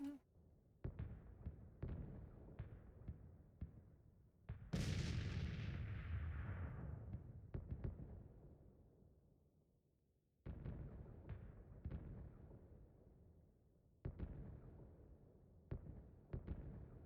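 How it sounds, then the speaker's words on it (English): Artillery in the Civil War strategy game Grand Tactician booms repeatedly, with sharp distant cannon reports in irregular clusters and one big blast whose rumble rolls on for several seconds before the firing resumes. "Those cannons been firing non-stop all day."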